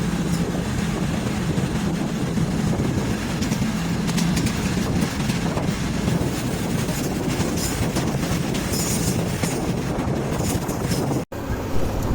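A Thai local train, No. 403, rolls steadily along the tracks past rice fields in the morning, a continuous low rumble with faint rhythmic clatter and wind buffeting, loud and close throughout.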